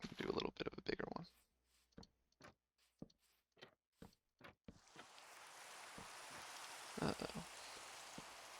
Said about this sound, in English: Really loves raining on this server.